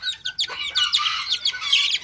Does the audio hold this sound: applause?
no